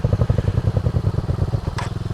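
A motorcycle engine putters at low revs during slow practice turns in a field, with a steady, uneven chugging pulse, close by, and a brief scrape near the end.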